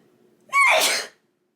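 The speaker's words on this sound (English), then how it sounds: "I have to sneeze." A single sharp sneeze, close and loud, with a quick intake of breath just before it and silence afterward.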